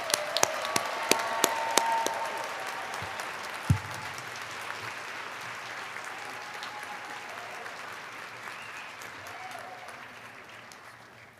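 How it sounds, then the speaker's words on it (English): Sustained crowd applause fills a hall at a fall commencement ceremony honoring graduates, with a few sharp individual claps at the start, then a steady wash of clapping that slowly thins out. "Please join me in congratulating these graduates with a round of applause."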